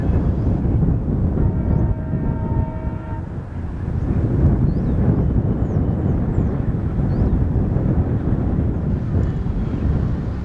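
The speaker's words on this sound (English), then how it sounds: "It was a cold and windy morning, and as expected, the loco arrived." An ALCO diesel locomotive arrives on a cold, windy morning on Indian Railways, a low rumbling engine and wind noise filling the scene with a brief horn-like tone early on.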